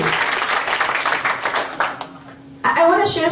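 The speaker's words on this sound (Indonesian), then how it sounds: "give yourself a big round of applause" Short bursts of audience clapping sound under a speaker's talk. Near the end the applause rises into a fuller, louder round.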